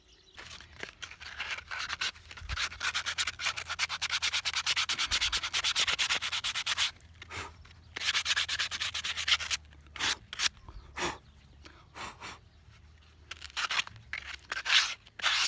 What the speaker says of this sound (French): Maintenant on va passer au ponçage.